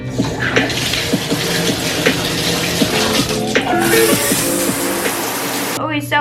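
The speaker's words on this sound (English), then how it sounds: "Shower time." Shower water running steadily, a continuous rushing spray close by, with a voice speaking over it and a brief pause in the flow near the end.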